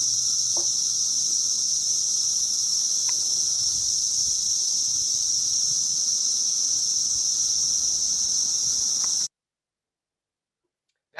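A chorus of Cassini periodical cicadas makes a dense, steady, high-pitched electric buzz. The drone holds unbroken at even loudness for about nine seconds, then cuts off abruptly into silence.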